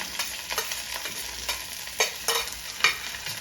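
Chopped onion, garlic, curry leaves and green chilies fry in a pan for a vegendakka (okra) side dish, a steady close sizzle broken by several louder scraping stirs of the spatula, with no talk.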